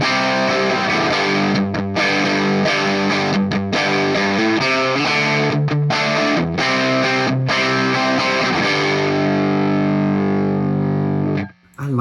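An electric guitar played through a NUX MG-30 on a Marshall Bluesbreaker-style rhythm preset with reverb switched off, giving a crunchy overdriven sound of strummed chords and short choppy stops, loud and close, fading out at the very end.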